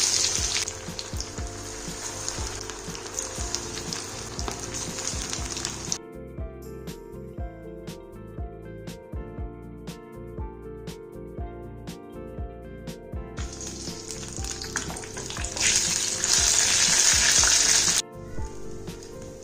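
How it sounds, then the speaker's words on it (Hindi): Lahori spiced fish pieces frying in hot oil, a loud steady sizzle and crackle that drops back for a stretch, then swells again before easing near the end, with no talking over it. "बाकी पीसेस को भी इसी तरह से हम फ्राई कर लेते हैं।"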